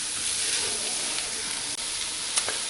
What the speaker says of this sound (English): fry that up with the onions and the garlic and ginger for a minute or so